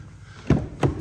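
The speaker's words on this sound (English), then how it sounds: "you can just swoop your foot under the back of the car and it will automatically close down" The automatic boot of a Mercedes GLA AMG Line closing, two short muffled thunks close by, the second following about a third of a second after the first.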